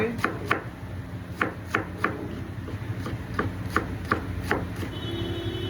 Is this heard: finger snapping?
no